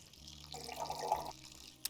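Liquid pours into a pot in a Cooking Simulator kitchen, a soft, short trickling splash lasting about a second, quiet and close, ending with a small clink.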